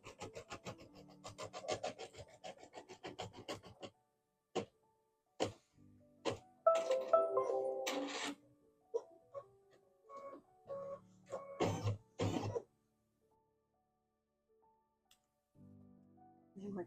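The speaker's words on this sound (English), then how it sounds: "let's let the machine stitch out a spot to show us where to place it" An embroidery machine stitches out a placement line with a rapid, uneven run of sharp mechanical taps and rasps, the bursts stopping and starting in short spells and then going quiet before resuming faintly.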